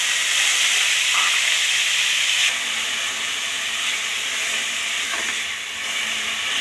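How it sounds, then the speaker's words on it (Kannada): Onion paste sizzles and hisses steadily in a hot pan as the base for a dhaba-style egg gravy, a loud, continuous close-up frying sound with occasional faint stirring. "ಆನಿಯನ್ ಪೇಸ್ಟ್ ಹಾಕಿದ್ದೀನಿ"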